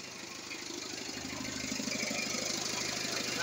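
An Isuzu C240 diesel engine in a forklift, converted from gas, runs close by with a steady, knocking chug that grows slightly louder, with no talking.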